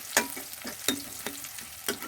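Bay leaves and dried red chillies fry in hot oil in a pan, a steady sizzle broken by sharp spatula scrapes at irregular intervals, close and moderately loud.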